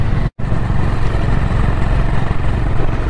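A Honda CB 350 Highness motorcycle cruises on a highway, its steady engine drone and wind rush loud and continuous, broken once by a brief dropout.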